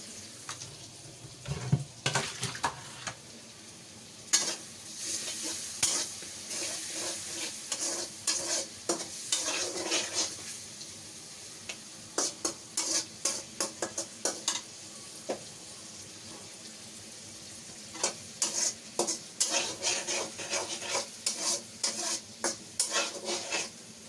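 Prawns sizzle and fry in a pan while a utensil stirs and scrapes them in repeated bursts of clatter, with steady hissing from hot oil underneath and no talking.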